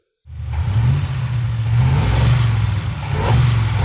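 A real car engine revs up as the throttle opens, starting abruptly from silence into a loud, steady mid-pitched roar that climbs slightly toward the end, with no talking.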